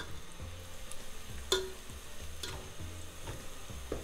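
Onions browning in a pan for chicken curry give a soft, quiet sizzle, broken by repeated scraping and clacking as a spatula stirs them every second or so.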